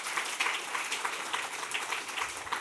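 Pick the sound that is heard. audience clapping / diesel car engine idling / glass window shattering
audience clapping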